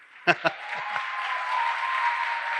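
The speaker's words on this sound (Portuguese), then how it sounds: "Pode aplaudir o Claudinei Silei" Audience applause in a church, opening with two sharp knocks before a soft, sustained wash of clapping builds gradually, with a steady tone running beneath.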